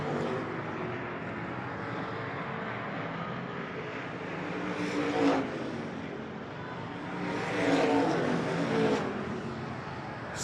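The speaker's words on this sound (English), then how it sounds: "Little bit of side-by-side racing deeper on in the field." Stock cars racing side by side through the turns at Hancock County Speedway, a steady engine roar from the pack with two louder swells as cars pass closer, no talk.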